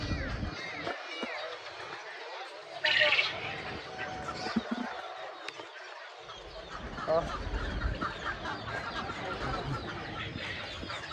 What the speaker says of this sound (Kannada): ಇವೆಲ್ಲ ನಾಟಿ ಕೋಳಿಗಳು